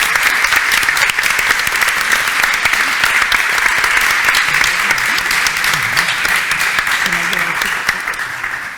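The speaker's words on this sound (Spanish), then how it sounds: "vamos a darles un aplauso" A large audience claps steadily after a presentation on good diversity-management practices, a dense and loud continuous wash of hands that holds level throughout and fades only slightly at the very end.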